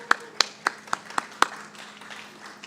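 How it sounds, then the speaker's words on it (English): A handful of sharp, spaced claps ring out from a sparse audience at a tech expo, about six distinct hand claps in a row before fading into quiet room tone. "So let's give them a round of applause for that."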